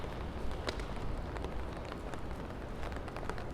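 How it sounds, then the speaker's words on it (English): Steady rain falling across a New York City street at night, a dense even hiss with scattered sharper drop ticks, moderately quiet and continuous, with no voices in the moment. "You can start to hear the rain sounds."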